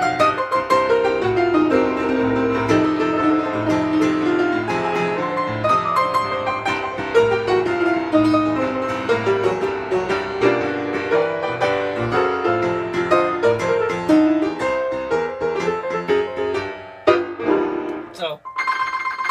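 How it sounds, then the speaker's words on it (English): Boogie-woogie piano played with trills over a blues scale, starting low, a busy sustained stream of rolling notes and rapid trills that fades out near the end, alone with no talking. "try to hold blues scale with the trills,"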